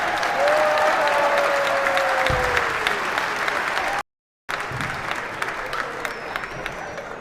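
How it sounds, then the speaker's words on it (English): Concert audience at the Bedford Corn Exchange applauding a live folk band as it leaves the stage: dense, steady clapping from a large crowd with scattered cheers, briefly cut by a short silent gap before resuming. "Would you please give these boys a round of applause as they leave the stage."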